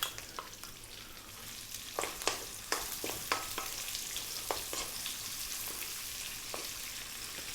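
Sliced onion drops into hot oil already infused with whole spices for a turnip curry and fries with a soft, steady sizzle. Scattered sharp crackles and spatters rise over it, fairly quiet and close.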